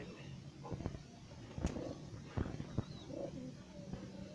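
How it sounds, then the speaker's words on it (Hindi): Low, soft pigeon coos sound nearby among scattered taps and shuffling, with a faint murmur of voices in the background. "ये डैडी कबूतर आया"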